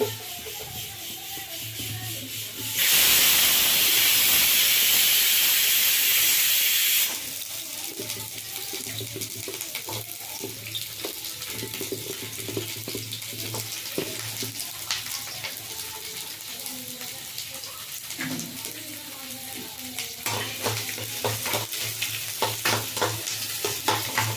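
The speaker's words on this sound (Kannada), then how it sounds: "ಈರುಳ್ಳಿ ಹಾಕ್ಕೊಳ್ತಾ ಇದ್ದೀನಿ." Onions frying in a pan with spices for a sprouted horse gram curry, a steady close sizzle with stirring scrapes; early on a loud rush of running water drowns it out for a few seconds.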